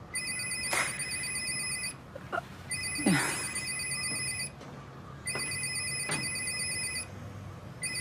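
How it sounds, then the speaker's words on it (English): A telephone rings in three long electronic bursts separated by short pauses, fairly loud against a low background hum. "That phone made the 999 call."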